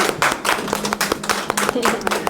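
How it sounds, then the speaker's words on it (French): Steady clapping from a group fills the clip, with voices chattering and calling out over it. "Applaudissez s'il vous plaît"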